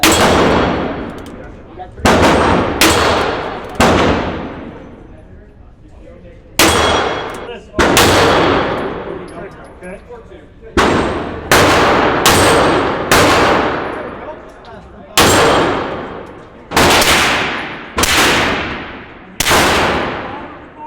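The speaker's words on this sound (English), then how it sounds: "We just got done shooting at the indoor shooting range." Gunshots at the new Smith and Wesson indoor shooting range: about a dozen loud, sharp reports, some in quick pairs, each with a long ringing decay in the enclosed room.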